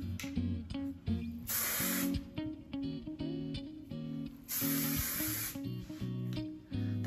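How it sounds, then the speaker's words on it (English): Kenra 25 hairspray spritzed onto curled hair in two bursts of close, loud aerosol hiss, the first lasting about half a second and the second about a second, with music playing throughout. "I'm just gonna give it a light spritz and kind of style my hair like I want it."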